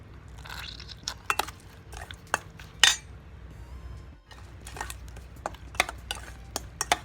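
Shrimp salad with the shells still in being stirred in a bowl, giving scattered clinks and scrapes of a utensil against the dish over a low background hum, close by and with no speech.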